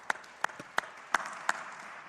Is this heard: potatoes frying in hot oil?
no